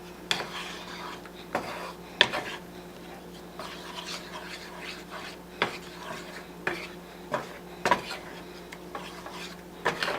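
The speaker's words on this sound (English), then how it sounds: "let's go ahead and start scrambling these eggs" Eggs being scrambled in a pan for a breakfast bowl, a utensil knocking and scraping against the pan in irregular clinks over a steady background hum, close and moderate in volume.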